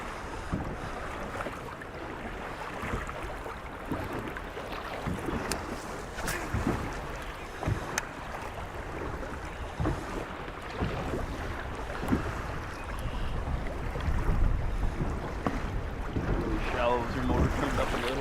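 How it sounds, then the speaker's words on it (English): Steady wind gusting over open water on the Mississippi River during a bass fishing tournament at Wabasha, Minnesota, a broad rushing noise with boat and water sounds and faint voices underneath. "There's wind."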